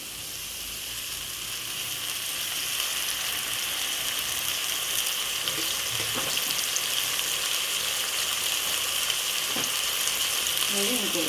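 Ivy gourd fries in oil in a pan for a roti pachadi chutney, with a steady, dense hiss of sizzling and a few faint stirring sounds, close by and unbroken throughout.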